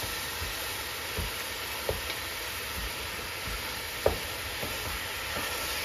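Pot of bolognese meat sauce sizzles and bubbles steadily on the stove, with a constant hiss and occasional soft pops and spoon clicks; close, moderately loud, no voices.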